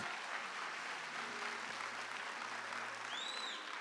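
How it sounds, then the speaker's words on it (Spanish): Audience applause at a product presentation event, a faint, distant, steady wash of clapping that continues evenly throughout, with a brief high whistle-like tone near the end. "Así que un fuerte aplauso para todos nuestros productos."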